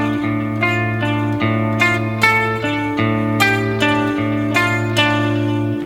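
An electric guitar plays a cross-picked riff in steady repeating arpeggiated figures, each note clearly picked and ringing, loud and close with no voice over it.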